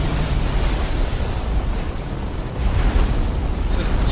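Explosions from ships being destroyed in the Persona 5 Royal video game, a dense continuous booming roar that fills the whole stretch at steady loudness, with speech mixed in.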